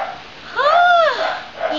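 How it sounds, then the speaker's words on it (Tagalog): A noisy dog lets out a loud, close bark with a rising and falling pitch, followed by a softer yelp. "Ingay na aso na."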